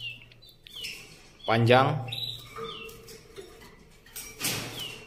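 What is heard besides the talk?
songbird chirping in a cage for sale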